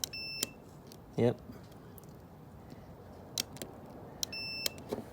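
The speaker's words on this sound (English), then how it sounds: "Over here, it should beep." A 2008 Chevy Tahoe Hybrid power seat module being tested gives several short, high electronic beeps spread across a few seconds in a quiet garage, with one brief spoken word in between.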